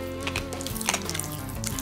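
Pop Rocks candy crackles inside a mouth with dense, close, irregular fizzing pops and snaps, sounding much like sizzling, heard alone without talk.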